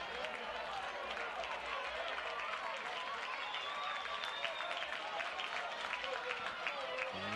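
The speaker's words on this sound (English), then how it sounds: "you kind of hear the crowd out there with every swing of the bat" Crowd noise at a high school 5A state championship baseball game, a steady far-off murmur of spectators with scattered claps and shouts running continuously under the broadcast, no single swing standing out.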